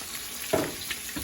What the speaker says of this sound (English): Start turning over the bacon.